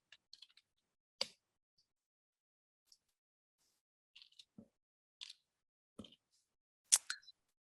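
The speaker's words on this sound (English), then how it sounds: "All right, I'm typing in there" Sparse clicks of typing on a computer keyboard come in short bursts separated by silent pauses, quiet and close.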